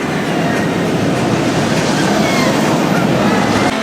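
A fast amusement park ride's cars rattle along their rails in a continuous, loud, dense roar with a rapid clattering texture, steady throughout and close up, with no clear talking.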